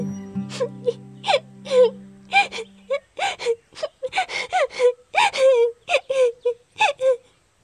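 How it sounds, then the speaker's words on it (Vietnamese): A person cries and sobs in a rhythmic run of wailing, gasping bursts, close and clear, after a brief held musical tone at the start. "Hình như mình vừa nghe thấy tiếng khóc."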